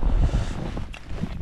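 Strong wind blows across a frozen lake during ice fishing for perch, a loud, close rumbling gust buffeting the microphone for a brief moment.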